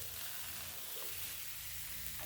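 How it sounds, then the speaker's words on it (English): Salmon and broccoli cooking on a grill give off a steady, even sizzle with a constant hiss, faint and unbroken and with no voices. "the salmon is beginning to cook pretty well"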